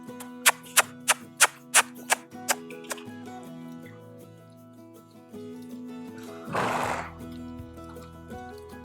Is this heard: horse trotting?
yes